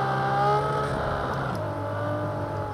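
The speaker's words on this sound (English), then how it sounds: "I like the sound of the rev limiter on this thing. Did you hear that?" A car in a racing video game on a virtual trackday, Fiat 500 Abarth, Nissan GTR or BMW, its engine droning at high revs with a buzzing, stuttering tone as it holds at the rev limiter, loud and steady without talk.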